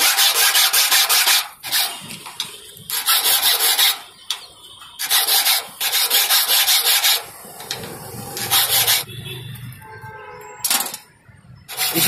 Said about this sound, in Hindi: अब इसकी घिसाई होगी।